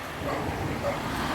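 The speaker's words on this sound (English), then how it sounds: "Excuse the dog." A dog barking and yipping somewhere nearby on an outdoor history walk around Folkestone, short bursts over steady background noise and a car passing.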